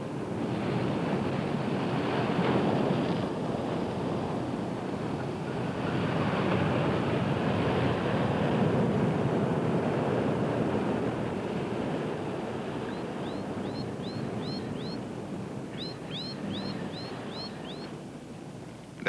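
Sea waves wash against the Nova Scotia shoreline in a steady, broad roar with wind buffeting, swelling and easing over time, with faint high chirping toward the end.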